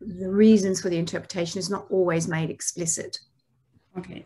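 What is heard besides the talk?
None of the usual background noises is heard.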